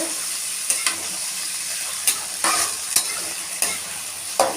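Fennel seeds frying in hot oil for onion-free chicken sukka, a steady sizzle punctuated by sharp stirring scrapes and clicks of a spoon against the pan, close and alone.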